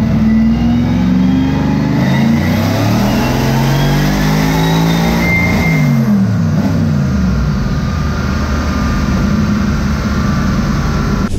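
A Porsche twin-turbo V8 on a dynamometer revs loudly and close up, its engine note sweeping up, dropping back around midway, then climbing again into a sustained high-rev roar.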